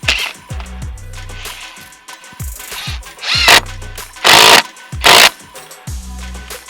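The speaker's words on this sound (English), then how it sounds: "I put like maybe 4 more screws in it" A power drill drives screws into a wooden deck baluster in several short whirring bursts, separated by brief pauses and handling noises, close and fairly loud.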